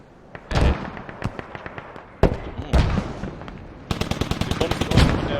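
Mortar fire in a video game battle: a dense series of sharp, loud blasts and cracks, some isolated thuds and then a rapid run of evenly spaced explosions near the end, with no talking.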